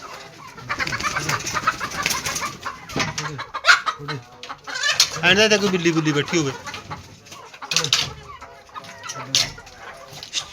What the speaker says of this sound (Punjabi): ਇਹ ਮੁਰਗੇ ਕਿੱਥੇ ਜੜੇ ਬੈਠੇ ਨੇ